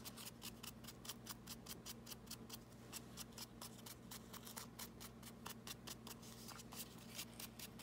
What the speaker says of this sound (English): Now it's up to you if you want to cut the edges or not